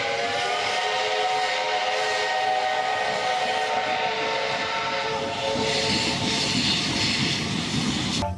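Yellow toy steam train gives off a continuous loud steam-whistle hiss with a steady tonal chuff, staying close and constant for several seconds with no talking over it.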